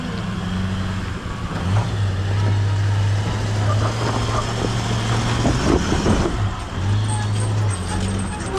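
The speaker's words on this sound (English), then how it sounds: "Here comes the Land Cruiser." A Land Cruiser towing a camper trailer climbs a rough section of the Overland Telegraph Track in Cape York, its engine droning steadily with rising and falling revs, accompanied by clunks and rattles, with faint voices in the background.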